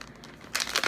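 A package is torn open with papery crinkling and tearing in the second half, moderately close, after a quieter rustling start.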